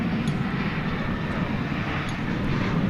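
Frontier Airlines jet airplane at DFW Airport at night, a steady moderate engine rumble and hiss, continuous and fairly distant, with no voices.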